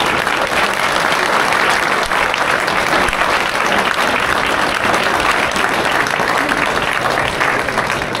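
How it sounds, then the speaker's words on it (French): Steady, dense applause from a crowd, loud and continuous throughout with no pauses. "Donc je pense qu'on peut dès à présent les applaudir."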